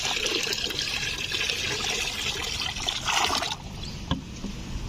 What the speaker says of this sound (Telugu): ముందైతే వాటరింగ్ చేద్దాము